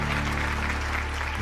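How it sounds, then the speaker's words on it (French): A circus audience applauds after a fire-breather's act, a brief dense wash of clapping over a low steady hum, heard at a distance as if through a muffled recording. "Puis tout le monde qui applaudit."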